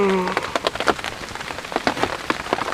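Heavy rain pelts a bushcraft survival shelter, a dense steady hiss broken by loud close drops and spatters striking the roof, with no voices heard.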